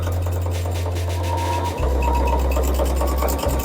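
A sewing machine runs a seam along a knit neckband stretched taut as it feeds, giving a steady low motor hum with a brief dip partway through and a faint rubbing of fabric.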